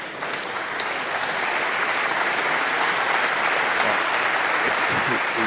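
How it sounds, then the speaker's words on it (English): Audience applause at the 2017 Masters snooker quarter-final between Robertson and O'Sullivan, a full steady round of clapping across the arena that holds its level throughout, with a commentator's voice faintly underneath. "He's getting a round of applause."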